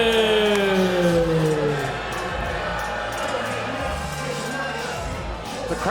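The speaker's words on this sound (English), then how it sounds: "The crowd showing those very aggressive woos towards Tyler Copeland." A wrestling crowd letting out long, drawn-out aggressive woos at a Duke City Championship Wrestling show, loud sliding voices that fade into general crowd noise.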